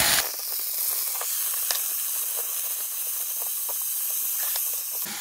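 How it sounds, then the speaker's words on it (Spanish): Garlic cloves go into hot oil in a frying pan, giving a loud, steady hiss with faint crackles and small pops. It starts abruptly and holds nearly unchanged throughout, with no voices. "Ahora incorporamos el aceite a la sartén y le ponemos los ajos"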